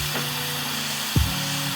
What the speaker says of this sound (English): Now I'm just polishing it.